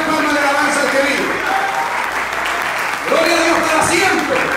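A church congregation claps in praise during a sermon, steady loud applause filling the room while a voice speaks over it and rises near the end.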